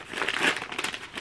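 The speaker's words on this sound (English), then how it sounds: "Lots of ripping." Brief, close crinkling and tearing as paper or plastic packaging around a skein of hand-dyed yarn is ripped open. The rustle is quick and busy, lasts just over a second and has no talk.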